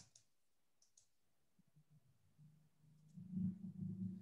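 Computer mouse clicks while building an Excel dashboard, a few faint sharp clicks early on in a quiet room, followed by low murmuring voices near the end.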